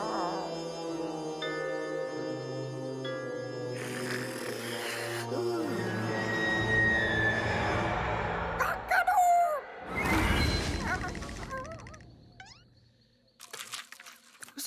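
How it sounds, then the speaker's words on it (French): A cartoon rooster crows loudly, a drawn-out, wavering call near the start, followed by squawks, clucks and a clattering commotion, with bits of music and background noise. "C'est un coq."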